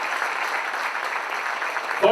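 Applause for the secretary general fills a political education congress hall, a steady dense clapping from a crowd throughout, with a brief louder burst at the very end.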